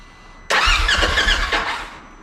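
A Polaris side-by-side engine cranks and catches abruptly, roaring loudly up close for about a second and a half before settling toward idle, with no voices.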